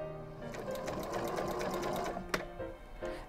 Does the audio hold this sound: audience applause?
no